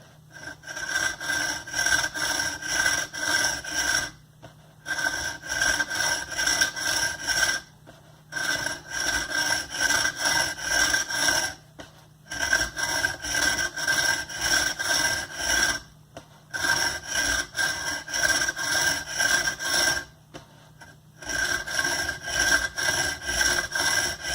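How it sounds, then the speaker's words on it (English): Hand saw cutting a carbon fiber tube held lightly in a vise: five long bursts of steady rasping back-and-forth strokes, each several seconds, separated by short pauses, close and even, with no speech. "it's almost just the weight of the saw pushing down"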